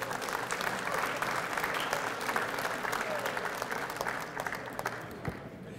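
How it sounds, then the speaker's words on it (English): A crowd applauds steadily for orange-coated volunteers at a coin show opening ceremony, dense continuous clapping filling the room and tapering slightly at the end. "I would like you to please give a round of applause to my orange-coated friends here"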